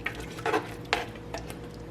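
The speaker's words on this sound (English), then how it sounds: "give this a good stir" Quiet scraping and stirring of a low carb cauliflower lasagna sauce in a pot, a few soft, brief strokes against a faint background hum.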